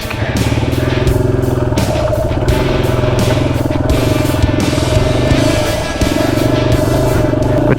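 Adventure motorcycle grinding along a rough, rocky trail in first gear on the New Mexico Backcountry Discovery Route, a loud, steady engine drone close to the rider with rattling clatter from the terrain and wind buffeting throughout.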